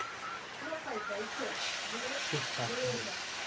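A pot of water rolling at a boil, ready for biryani rice, gives off a steady, loud steam hiss throughout while a person talks over it.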